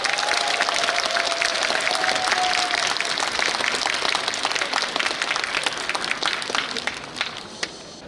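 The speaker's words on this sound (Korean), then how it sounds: "우리 박수 한번 주실까요?" Audience applause at a talk concert in Daegu, dense sustained clapping from a large crowd that stays loud throughout before tapering slightly at the end.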